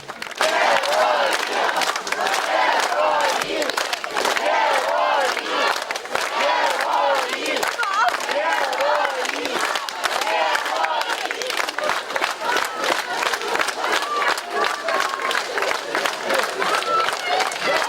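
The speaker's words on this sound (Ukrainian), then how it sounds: "Кожному, хто виходить, знову і знову аплодують і кричать Слава." Relatives welcoming border guards home clap and shout in a loud, close crowd, rhythmic applause mixed with repeated cheering cries that runs without a break.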